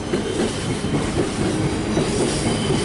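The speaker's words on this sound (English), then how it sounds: "can see it's an electric freight train." A heavy electric freight train rolls past close by at Manchester Piccadilly, UK, a loud, continuous rumble and clatter of wheels on rails with no voices.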